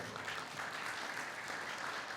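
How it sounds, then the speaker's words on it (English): Applause from a convention audience, a steady, faint wash of many hands clapping at a distance, continuous through the moment with no clear talk. "Can you give a round of applause?"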